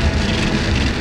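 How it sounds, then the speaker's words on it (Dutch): Heavy rain pours down during street flooding in Deventer, a loud, dense, unbroken hiss of water striking surfaces, close and steady with no voices. "hier is dan gewoon weer harde regen"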